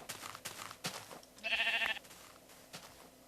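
A brown sheep in the Minecraft video game gives a single short bleat, clear and fairly close, amid faint background game sounds and light clicks.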